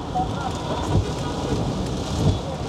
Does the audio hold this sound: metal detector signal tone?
no